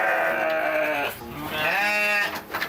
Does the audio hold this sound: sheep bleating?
yes